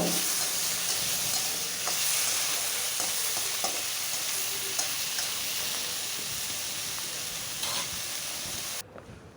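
Eggplant frying in a pan over a low flame is stirred, giving a steady sizzle with intermittent scraping stir strokes throughout, close and fairly even, cutting off near the end.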